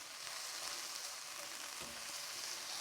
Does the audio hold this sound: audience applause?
no